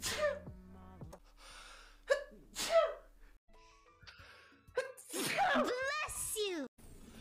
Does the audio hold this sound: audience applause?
no